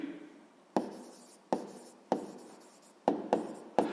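A pen writes on paper during a sixth-grade maths exercise, with six quick scratching strokes in short bursts and brief pauses between them, close and distinct with no voice.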